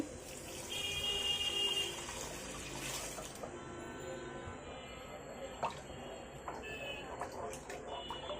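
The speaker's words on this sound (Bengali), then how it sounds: "এখনই ভিতরে দিয়ে দিব পানি" Water is poured into a pot of cooked spices in a short, rushing splash, then fades into quieter bubbling and faint kitchen clatter, with a voice talking underneath.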